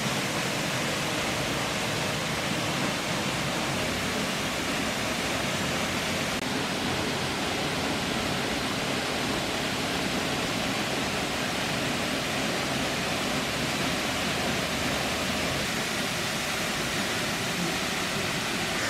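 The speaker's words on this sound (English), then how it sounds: "Beautiful waterfall." A waterfall at Rock City Gardens on Lookout Mountain, Georgia, roars as a steady, dense broadband rush that stays even and unbroken for the whole stretch, with no talking over it.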